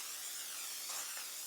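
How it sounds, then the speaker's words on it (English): A soft, steady hiss of canola oil cooking spray misting from a can onto cake pans, faint and continuous, with no talking. "I'm just using a canola oil cooking spray to grease them up so there's no sticking"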